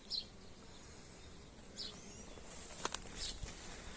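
Honeybees busy at the front of a hive on a Portuguese farm make a soft, continuous buzz, with a few individual bees zipping close past and louder wingbeat passes toward the end.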